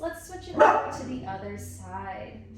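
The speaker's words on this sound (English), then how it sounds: "Excuse my angry dog." An angry dog gives a short burst of barking behind a Pilates instructor who keeps talking through a home mat workout.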